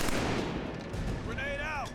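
Dense, continuous gunfire and battlefield noise from the shooter game Killzone 3, loud and unbroken throughout, with a whining tonal effect sweeping in near the end and faint voices mixed under the combat.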